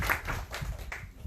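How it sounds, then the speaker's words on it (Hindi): Congregation clapping for a guest during a church sermon, a soft, brief patter of applause heard at a distance. "जोरदार इनके लिए तालियां"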